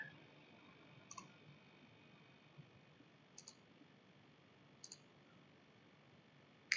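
Computer mouse clicks during a right-click to extract downloaded files, heard as three or four faint, sharp ticks spread out over a quiet background hiss, with a slightly louder click right at the end.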